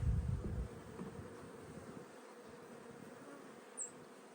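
Faint, continuous buzzing of many honeybees in a hive, a soft steady hum close by, with a brief louder rustle at the start as a frame is pulled up.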